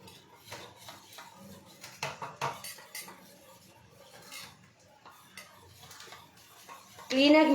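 A spoon scrapes and clinks against a pot while ingredients are mixed in a home kitchen, soft irregular strokes close by, ending in a brief louder sizzle, with a voice speaking at times.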